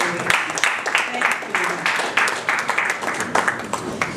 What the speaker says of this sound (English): a very big round of applause for Barrister Barakat Odunuga Bakare.